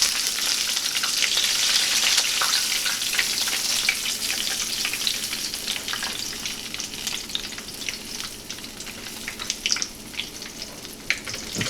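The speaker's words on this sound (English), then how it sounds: "We are done frying." Wild turkey deep frying in hot oil, a dense, steady sizzle with crackling pops scattered throughout, close and loud with no talk.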